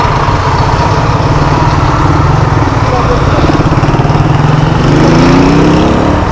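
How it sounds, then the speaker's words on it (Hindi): Steady, loud engine and road drone from a vehicle moving through heavy traffic on a city street in snowy Mashhad, Iran, heading out toward Qom and Tehran, with a slight rise near the end. "काफ़ी ट्रैफिक है, रश काफ़ी है।"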